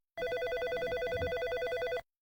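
A telephone rings loudly and steadily, a continuous electronic trill lasting about two seconds that starts and stops abruptly, with no voices over it.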